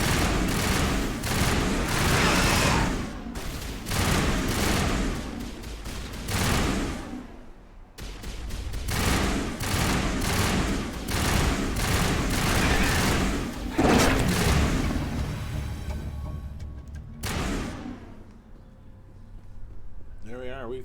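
Gunfire in Mass Effect aimed at a Varren, bursts of shots rising and falling across the whole stretch with brief pauses, loud and close, mixed with talk.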